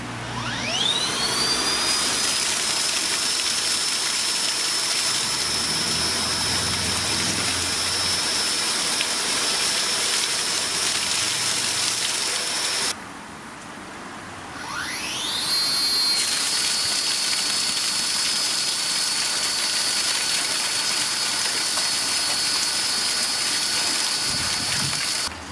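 A Makita pump on a multi-function split shaft power unit pumping water, a loud steady whining engine with a high tonal drone that spins up, cuts out briefly midway, then revs back up and runs on.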